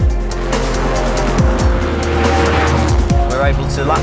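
Range Rover Sport SVR at speed on the Nürburgring Nordschleife, its engine loud and close, revving hard and climbing through repeated upshifts, with brief drops in pitch between gears and a continuous roar throughout.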